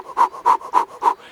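A human voice imitates an elk's panting through a call, giving four evenly spaced, breathy pants in quick rhythm, close and fairly loud.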